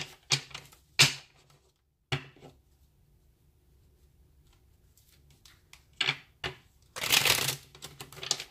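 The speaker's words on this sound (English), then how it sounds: "Let me shuffle a couple times." Tarot cards being shuffled by hand in several quick riffling bursts separated by pauses, close and crisp, with the longest and loudest burst near the end and no talk.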